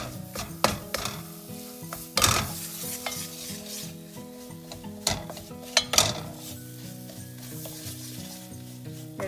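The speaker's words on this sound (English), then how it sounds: "let's cook the all-purpose flour in this butter" All-purpose flour sizzles in melted butter in a pan, with steady stirring scrapes and occasional clinks of a utensil against the pot, close and alone with no talking.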